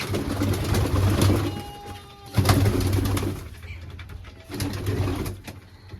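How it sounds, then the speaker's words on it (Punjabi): Pigeons in a backyard loft coo in repeated throaty bursts, close and fairly loud, with short pauses between the rounds of cooing. "ਆ ਕਬੂਤਰ ਆਪਣੇ ਵੀ ਫਿੱਟ ਨੇ ਸਾਰੇ ਉੱਡਣ ਵਾਲੇ ਕਬੂਤਰ ਨਹੀਂ ਜੀ"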